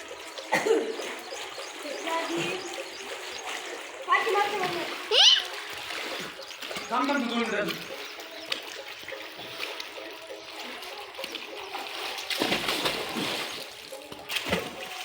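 Water splashes in bursts as someone swims in a deep farm well, an enclosed, echoing space, with children's and adults' voices calling out between the splashes.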